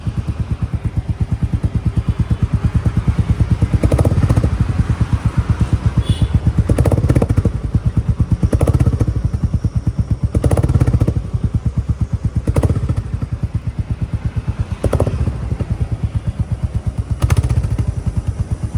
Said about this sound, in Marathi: सो तुम्हाला मी आवाज ऐकवतो गाडीचा.